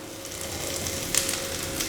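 Capsicum sizzles in a pan as chapati noodles are stir-fried, a steady soft hiss with a brief clink of stirring.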